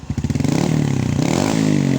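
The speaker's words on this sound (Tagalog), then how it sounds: "Ipa full RPM natin mga kay Diaz." Kawasaki KSR110 motorcycle engine, which has an electrical fault, revving steadily toward full RPM, a loud close buzzing drone with a rising, slightly uneven pitch and no talk.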